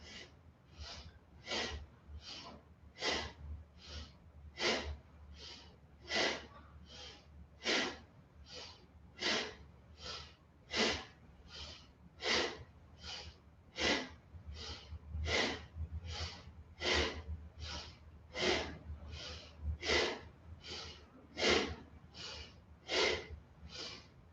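Steady yoga breathing: a long series of about twenty-five sharp, audible nasal breaths repeating at a regular rhythm, each a brief hissing burst, close and alone with no talking.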